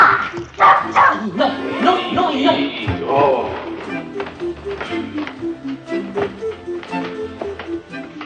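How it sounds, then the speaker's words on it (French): A dog indoors at bedtime gives a few yips and barks early on amid fuller noise, then quieter rhythmic sounds follow, with no clear talk. "Pas bouger, le chien."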